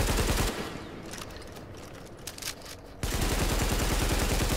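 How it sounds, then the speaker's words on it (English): Bursts of gunfire from The Division video game, loud and dense at the start and again through the second half, with a quieter stretch of scattered shots between. "Do you see my gunfire?"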